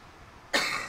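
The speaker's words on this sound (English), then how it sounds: "I'm going to have to cough again" A single sharp cough bursts out after a moment of near silence, close and fairly loud, with a short rough tail.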